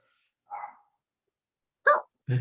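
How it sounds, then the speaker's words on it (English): A dog barks twice outdoors in a home setting, each bark short, sharp and isolated, separated by long stretches of silence before a final louder burst. "Dog barking"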